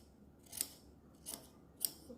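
Three separate scissor snips cutting fabric for a batwing bubu gown, close and crisp with short pauses between them, and no talking.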